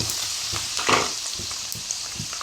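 Cumin seeds and cut dried red chillies frying in hot oil as a tempering for tomato pickle, giving a steady close sizzle with small crackles and a brief louder spit, with no talking.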